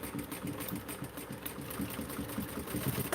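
Sewing machine top stitching, a continuous fast mechanical stitching rattle, steady and fairly quiet, close by with no talking.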